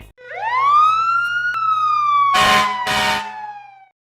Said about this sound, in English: A ladder truck is a fire engine equipped with an extendable ladder to reach high-rise buildings during firefighting and rescues.